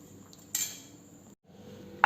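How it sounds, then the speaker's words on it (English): A spoon clinks against a bowl while a peanut salad with cooked corn kernels and chopped coriander is mixed, giving one brief sharp metallic chink followed by quiet scraping, close and faint. "Mix everything well."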